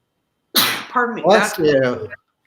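A single sharp sneeze bursts out, followed by a short voiced exhale or murmur right after, close to the listener.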